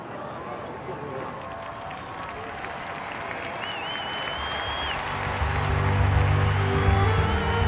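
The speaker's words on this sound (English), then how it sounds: "Every Wednesday, Pope Francis addresses the crowd in St." Crowd in St. Peter's Square applauding Pope Francis at a Wednesday audience, a dense wash of clapping and cheering that swells louder toward the end, with voices mixed in.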